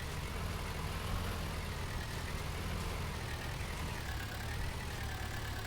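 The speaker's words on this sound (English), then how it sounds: "With the power of tractor we've got, it's ideal at the moment." A tractor engine in Farming Simulator 19 idles in a steady, unbroken drone, a low rumble with a faint whine above it and no voices over it.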